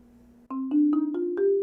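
Marimba playing the opening line of a mallet etude, a short run of five struck notes rising gradually in pitch, each with a crisp attack and brief ringing tone, clear and alone.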